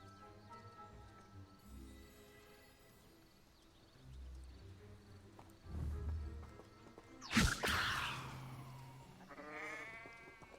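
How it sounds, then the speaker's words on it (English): A goat in the Hogwarts Legacy video game bleats loudly once with a harsh, wavering cry near the end, after quieter game ambience and low rumbles; a second shorter bleat follows. "You are going to be a flying goat."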